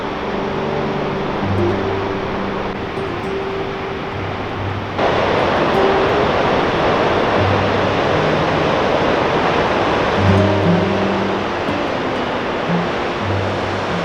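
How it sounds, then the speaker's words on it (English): Massive Pacific swells along the Oregon coast heard from an overlook, a broad roaring wash of surf with wind buffeting the microphone, swelling louder midway under faint background music. "Some really massive swells."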